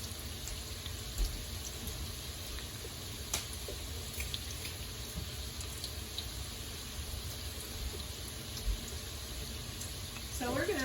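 Chicken pieces for General Tso's chicken fry in hot oil with a dense, steady sizzle and scattered pops throughout, close and constant, with a voice briefly at the end.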